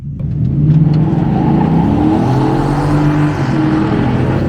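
A regular cab Ford F-150 with a 5.0 V8 launches hard with wheel spin, its engine revving loudly and continuously up toward 7000 RPM, a sustained rising roar held close throughout.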